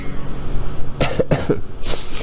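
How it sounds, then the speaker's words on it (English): A few sharp coughs in quick succession, close and fairly loud, followed by a breathy exhale, with no talking. "I'm probably going to be coughing a decent amount in this video"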